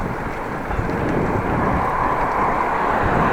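Steady wind blowing from the southeast, a broad continuous rush with low microphone buffeting heard outdoors on a cold ride between Appingedam and Groningen, constant and fairly loud throughout.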